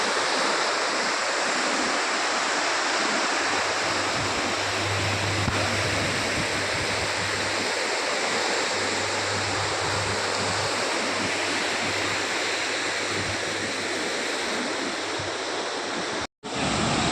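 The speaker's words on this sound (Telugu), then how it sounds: "ఈ కరెంటు తయారు కావడానికి చూడండి ఏ విధంగా పోతున్నాయో నీళ్ళు." Water pours through the gates of the Jurala dam in a loud, steady roar of rushing spray that stays unbroken for about sixteen seconds. It cuts out briefly near the end.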